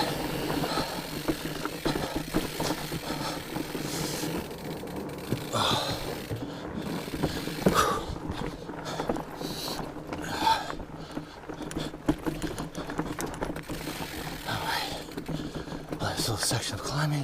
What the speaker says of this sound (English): I love the sounds of mountain biking now. Tires, the free wheel hub.